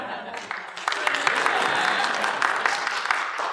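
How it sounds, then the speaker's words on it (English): An audience at a storytelling talk by a speaker breaks into applause after the final slide, clapping swelling and holding steady through the room while a voice talks faintly beneath. "that got a round of applause"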